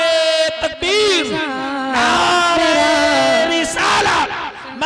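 A large crowd roars and shouts in loud unison, answering a call of Naara-e-Takbeer at an Islamic poetry gathering in Asgaripur, Amroha, with voices rising and falling in repeated waves throughout.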